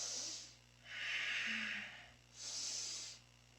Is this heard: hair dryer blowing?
no